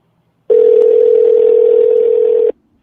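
A loud, steady telephone dial tone plays over a speakerphone for about two seconds, then cuts off abruptly.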